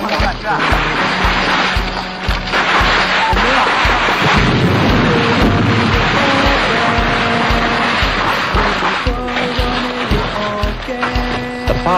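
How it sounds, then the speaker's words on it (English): Mortar barrage firing in a hillside jungle battle, a rapid run of loud booming launches and thuds repeating in a steady rhythm, mixed with rumbling background noise and engine-like drone. "The mortar is reset. Another barrage begins."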